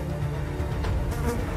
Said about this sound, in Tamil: ஃப்ளைஸ்.